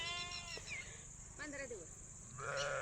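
Sheep bleat in several short wavering calls close by, spaced through the moment, with people talking softly in between over a faint background.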